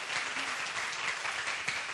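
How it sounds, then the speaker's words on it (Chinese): A crowd at a micro-film lecture in New Taipei gives a film director a warm round of applause, a close, thick and steady patter of many hands clapping with no voices. "我们是给 Kurt 导演一个掌声鼓励"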